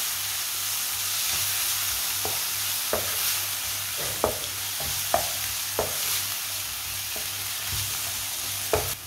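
Finely chopped green chilies and tomatoes sizzle steadily in a pan, with a constant frying hiss and occasional sharp clicks of a spoon stirring against the metal.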